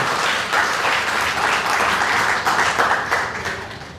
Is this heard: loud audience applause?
yes